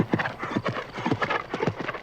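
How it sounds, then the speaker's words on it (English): A horse galloping, hooves beating a fast steady clip-clop rhythm close by, with no talk over it. "I put the spurs to Copper and made her gallop all the way to Sweet Ravine"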